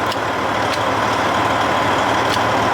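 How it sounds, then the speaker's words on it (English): A Freightliner truck's diesel engine idles close by, a steady low rumble with an even, unbroken drone and no voices. "All right, so truck's running."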